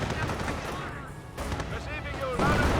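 Tank cannon fire and mortar blasts in the Company of Heroes 1 real-time strategy game, with a Panzer Elite Panther firing, give repeated booming gunfire and explosions under steady commentary, growing louder near the end.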